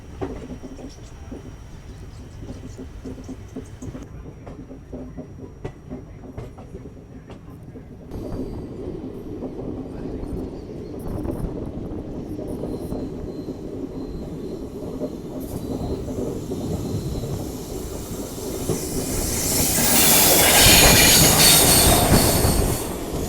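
The Vibhuti Express on the Howrah–Prayagraj route crosses the roughly 150-year-old Malviya Bridge, a continuous loud rumble of wheels on rails that builds steadily, ending in intense high-pitched wheel squeal, heard from inside the train.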